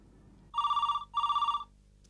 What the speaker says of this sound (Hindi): ये जरूर मिस्टर बजाज का फोन था।